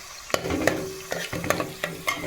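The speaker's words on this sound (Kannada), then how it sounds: "ಆಮೇಲೆ ಕರಿ ಲೀವ್ಸ್, ಇದನ್ನು ಹಾಕಿಬಿಟ್ರೆ ಇದೆಲ್ಲವನ್ನು ಚೆನ್ನಾಗಿ ಫ್ರೈ ಮಾಡ್ಕೊಳ್ಬೇಕು" Chopped green chillies, ginger and curry leaves fry in a pan, with a low sizzle under several sharp scraping stirs of a spatula, spaced irregularly, close and fairly loud, and no talking.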